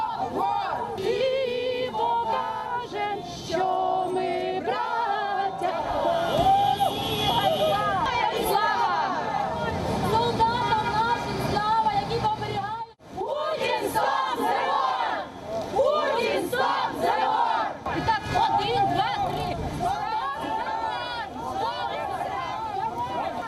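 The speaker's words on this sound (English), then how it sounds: "While the crowds chanted slogans against Moscow" A large crowd at a rally outside the Russian embassy in Beirut chants slogans loudly and continuously, voices surging in rhythmic waves with a brief dip in the middle before the chanting resumes.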